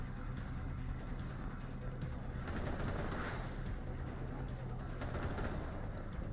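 Rapid gunfire in The Walking Dead NFT game, bursts of shots cracking over a dense, steady bed of game noise, with sharper volleys near the middle and end.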